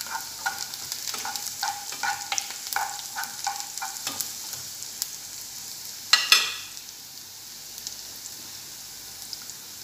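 Garlic hitting hot oil in a pan for chicken liver adobo, a bright crackling sizzle with stirring scrapes at first, a sharp louder burst midway, then settling into a steady softer frying hiss.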